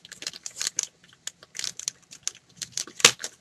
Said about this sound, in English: So we're going to get our handy dandy X-Acto knife out,